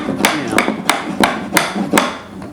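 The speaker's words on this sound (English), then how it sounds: "Just hit it with a hammer, and it should," A hammer taps a new hardwood floor board into place to extend an existing floor, with six sharp, evenly spaced knocks close up.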